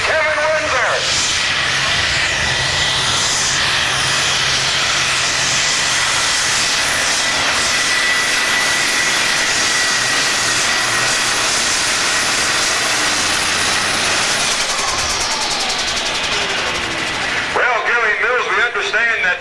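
A super/pro pulling tractor with a boosted engine roars at full throttle, a loud, sustained howling whine across a tractor pull show, with an announcer talking over it.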